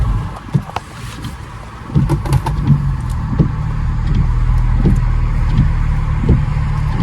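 A stage 1 BMW 335i engine tuned to 400 hp rumbles while sharp pops and crackles from the exhaust burst out irregularly, loud and close, with wind noise over the microphone.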